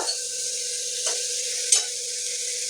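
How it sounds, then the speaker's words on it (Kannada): Tomato being sautéed and mashed in a pan, a soft continuous sizzle with a low steady hum and two or three brief scrapes of the spoon, close and quiet. "ಟೊಮೆಟೊ ಚೆನ್ನಾಗಿ ಸ್ಮ್ಯಾಶ್ ಆಗಲಿ, ಅಲ್ಲಿವರೆಗೂ ಚೆನ್ನಾಗಿ ಬಾಡಿಸಿ"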